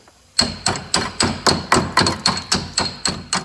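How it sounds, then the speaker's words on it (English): A small hammer strikes a long socket extension to break loose a rusted nut, about eleven sharp metallic blows in a steady, evenly spaced rhythm, close and loud. "try to break this fucker loose by using my long extension and hit with a fucking hammer"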